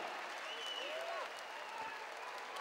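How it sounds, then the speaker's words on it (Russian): An audience applauds after a combat sports fight, giving a steady, fairly distant wash of clapping that continues evenly throughout. "Ваши аплодисменты!"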